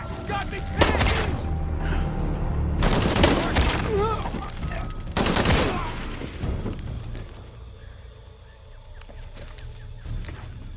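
Bursts of gunfire crack in Shadow of the Tomb Raider, with several loud volleys and shots coming in clusters amid chaotic combat, while voices shout over the shooting.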